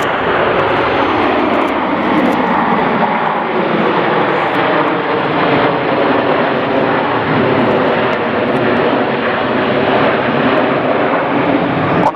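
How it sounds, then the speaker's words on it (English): Red Arrows jets flying close formation during an Apollo roll at an air display, a loud continuous engine roar that holds steady throughout with no talk. "The jets here are about 5 to 6 feet apart as they fly the Apollo roll."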